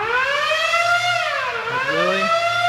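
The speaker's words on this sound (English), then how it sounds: "The lunk alarm is an air raid siren that blares when people are being too loud or being too gym" The Planet Fitness lunk alarm, an air raid siren, wails loudly with a rising and falling tone that sweeps down and back up, sounding alone with no voices.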